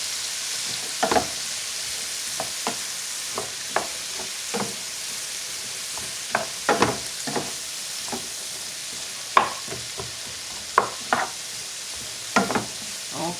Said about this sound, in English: Okay, so I'm going to let these saute for a little bit